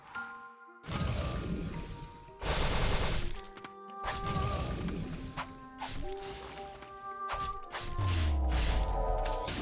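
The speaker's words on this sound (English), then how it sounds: "Big explosion." In the video game Ender Lilies, a series of heavy booming bursts and impacts sounds over layered game music, several loud broadband blasts spaced through the stretch, with no talk.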